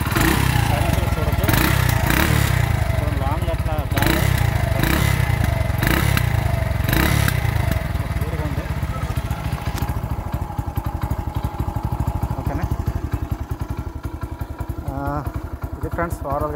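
A fully modified Hero Honda CD100ss motorcycle with a reworked engine runs nearby with a steady, close putter and a few rising revs early on, settling into an even idle while someone talks over it.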